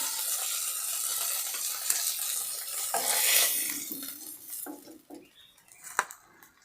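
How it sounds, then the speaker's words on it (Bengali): Rohu fish sizzles and crackles in hot oil in a wok, a continuous close frying hiss that fades toward the end, broken by a few sharp clinks of a utensil against the pan. "তেলটা আমার গরম হয়ে গিয়েছে। এখন আমি মাছগুলো ভেজে নিব।"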